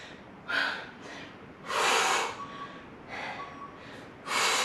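Forceful breaths during a shoulder press workout, several sharp, close exhalations and gasps in an uneven rhythm with quiet pauses between them.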